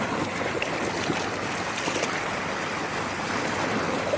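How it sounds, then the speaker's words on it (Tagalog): Ocean waves rush against shoreline rocks in a steady, loud, broadband wash that fills the whole stretch without pause or voices. "The sound of the waves rushing the shore relaxes your mind and body."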